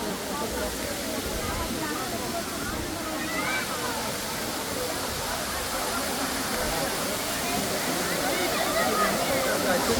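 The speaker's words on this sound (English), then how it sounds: "This is a nice waterfall." A waterfall roars in a constant, dense rush of falling water, loud and close with no break for the full ten seconds.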